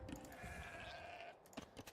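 Sheep bleating in Age of Empires II: a short, faint bleat with a quavering tone, then soft clicks from the game, no talking.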